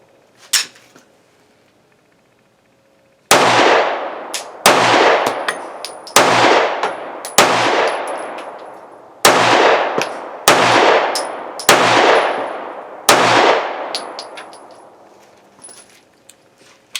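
A Walther CCP 9mm pistol fires at steel targets outdoors, eight loud sharp shots at uneven intervals of one to two seconds after a quiet start, each followed by a ringing metallic clang and a decaying echo.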